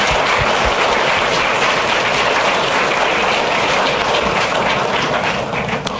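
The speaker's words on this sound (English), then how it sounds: "let's have a round of applause for the ones who helped you" An audience applauds at a university commencement ceremony, dense and loud clapping that fills the whole stretch evenly and without pause, with no one speaking over it.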